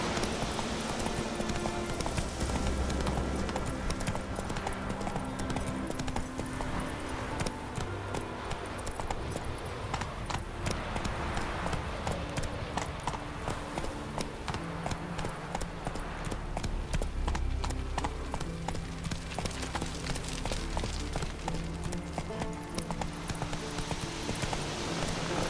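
Roach the horse gallops in The Witcher 3 video game, a steady rapid clip-clop of hooves running continuously under a dense game soundtrack, with a brief spoken line mixed in.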